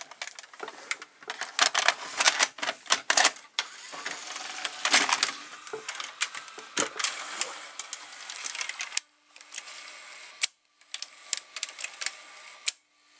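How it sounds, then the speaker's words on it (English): A Sony SLV-701HF VCR's double cam mechanism loads a tape, giving a run of close, irregular mechanical clicks, whirs and rattles that continue for several seconds with brief pauses. "now I will tilt the VCR and I will insert the tape again"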